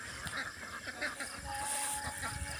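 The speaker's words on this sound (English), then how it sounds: "A pond full of ducks." Ducks on a rural pond in the Philippines countryside, a noisy flock quacking and honking in a continuous busy chorus, fairly near, with outdoor background sound.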